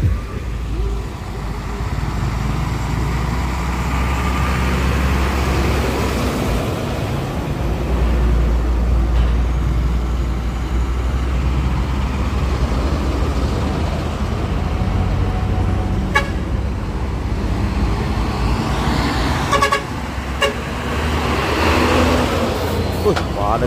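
Congested traffic jam at Bukit Kodok with buses and trucks: constant low engine rumble, heavy idling drone and repeated horn toots, while people talk over it throughout.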